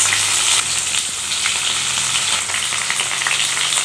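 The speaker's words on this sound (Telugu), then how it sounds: "ఇప్పుడు ఇవన్నీ మంచిగా ఫ్రై చేసుకుందాం" Onions, green chillies and curry leaves fry in a pan of hot oil already tempered with cumin, mustard seeds and dal, giving a loud, continuous close-up sizzle with faint crackles and no voices.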